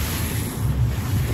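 Rough sea waves surge against a fishing boat as it heads out of a river mouth. A continuous loud wash of water and wind rumbles throughout with no speech.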